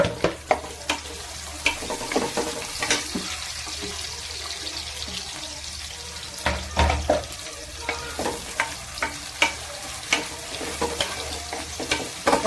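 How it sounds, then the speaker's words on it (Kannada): Onions frying in hot oil toward golden brown, with a steady close sizzle broken by frequent clattering stirs of a spatula against the pan. "ಚೆನ್ನಾಗಿ ಫ್ರೈ ಆಗಿದೆ, ಗೋಲ್ಡನ್ ಬ್ರೌನ್ ಬರೋವರೆಗೂ."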